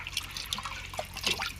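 Broton liquid supplement poured into drinking water for chickens, a soft close liquid trickle and drip with small splashes across a short stretch, no talking.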